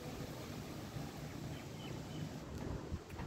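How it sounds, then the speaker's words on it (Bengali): Steady wind rushes and buffets the microphone in a continuous low roar, with no voices. "খুব সুন্দর বাতাস শুরু হয়েছে।"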